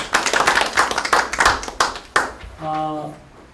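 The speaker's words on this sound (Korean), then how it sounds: "박수하겠습니다." Brief applause from a church seminar audience, a burst of clapping mixed with voices before it fades into a steady tone.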